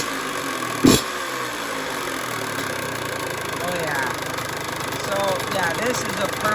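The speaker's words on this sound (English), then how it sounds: "this is a perfect idle" A small two-stroke engine idles after its air screw is adjusted, holding a steady, buzzing, even note throughout, with one sharp knock near the start.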